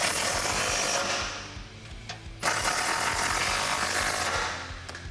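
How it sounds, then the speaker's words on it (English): A ratchet with a 15mm socket tightening a bolt on a Jeep Wrangler JL suspension lift, rapid close clicking runs that pause briefly, then resume loudly and fade near the end. "we can tighten this up with a 15mm socket."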